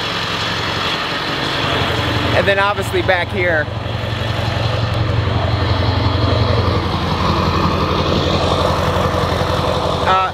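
A 7.3L diesel truck engine fitted with stage 2 injectors idles with a steady, deep rumble that runs under someone talking throughout, easing slightly toward the end.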